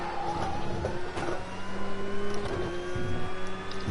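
GT3 race car engine in a sim racing game at the Oschersleben circuit, a loud steady engine drone with shifting tonal whines as the car brakes and turns in, no talk.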